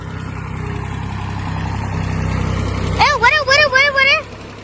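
Low, steady tractor engine rumble idling nearby, joined near the end by a wavering, sing-song voice-like call over the hum.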